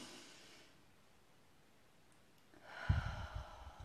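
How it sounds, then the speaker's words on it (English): Soft breath drawn in through the nose during a relaxation exercise, a quiet airy hiss at first, then a louder, closer rustling inhale with slight snorting near the end. "Just take a deep breath in."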